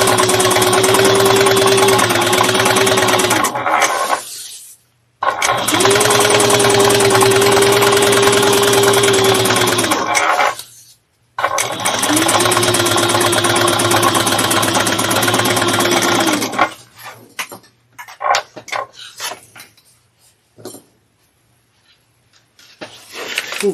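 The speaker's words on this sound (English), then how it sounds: "I'm gonna top stitch this 1/8 as well." A sewing machine running top stitching on a bag, three long steady whirring passes with short pauses between, loud and close, followed by a few quieter clicks and handling sounds.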